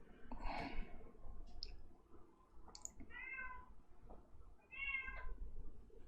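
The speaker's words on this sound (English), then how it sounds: "Oh, poor kitty." A cat meows several times, short plaintive cries spaced a second or so apart, fairly quiet over soft background rustling and breathing sounds.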